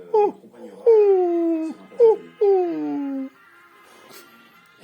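Gordon setter puppy whimpering close by in a series of high, drawn-out whines and short yelps with brief pauses between them.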